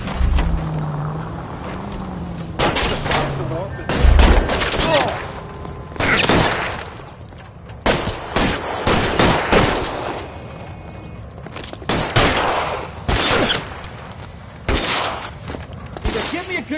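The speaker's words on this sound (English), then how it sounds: "Make a move! Shots here!" Bursts of gunfire in the video game L.A. Noire crack out in rapid clusters, loud and close, separated by short pauses, with engine rumble and game voices shouting underneath.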